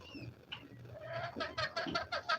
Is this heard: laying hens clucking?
yes